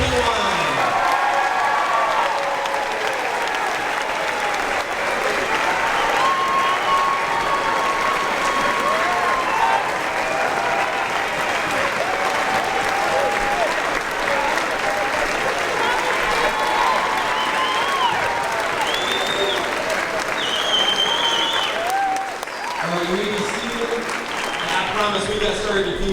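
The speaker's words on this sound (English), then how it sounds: "Please join me in a big round of applause for the class of 2021." Sustained applause and cheering from a large crowd at an eighth-grade promotion ceremony as the class of 2021 walks a red carpet, dense steady clapping filling the whole stretch with faint voices mixed in.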